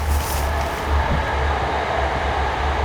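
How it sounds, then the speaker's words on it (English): A steady low rumble with a broad wash of noise, a Leeds to Huddersfield train rolling past at a moderate distance near Bradley, continuous throughout without voices. "That's a train, is that, passing by from Leeds to Huddersfield"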